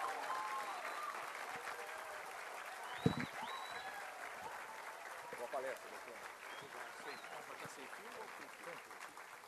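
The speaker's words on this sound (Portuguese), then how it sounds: "gostaria de uma calorosa salva de palmas" A crowd applauds warmly and continuously, a dense patter of clapping that holds steady with a few faint voices mixed in.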